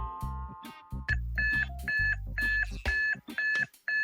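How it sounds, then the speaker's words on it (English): A loud electronic alarm beeps in a repeating pattern of short tones, startling on a Saturday morning, close and insistent over several seconds amid musical background. "The loud sound of the alarm both startled and annoyed me."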